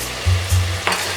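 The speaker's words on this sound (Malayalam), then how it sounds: "നന്നായി ഇളക്കി കൊടുക്കുക." Tomatoes fry in a pan for a soya chunks dish while being stirred, a soft steady sizzle broken by two low thumping scrapes and a short clatter near the end, close and without talk.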